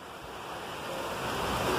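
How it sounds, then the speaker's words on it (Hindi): Heavy rain pouring during a stormy downpour in Karachi, a dense, steady hiss that swells slightly louder toward the end, with no voices. "और बहुत तेज बारिश हो रही है।"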